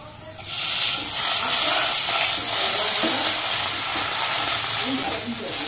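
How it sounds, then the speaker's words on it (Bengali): Egg and boiled potato pieces fry in a little oil, giving a loud, continuous hiss and sizzle that holds steady throughout, close up, with no talk over it. "সামান্য একটু তেলে ডিমটা ভেজেছি, তার মধ্যে আলুটা দিয়ে দিয়েছিলাম।"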